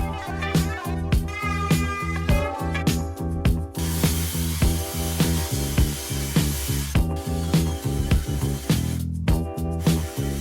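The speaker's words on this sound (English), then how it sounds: "I just needed to cut my 1/2 inch plywood, which is my backing panel." A power saw cuts through a 1/2 inch plywood backing panel, loud and close, with a steady whine broken by rhythmic pulses and brief pauses as the cut goes on.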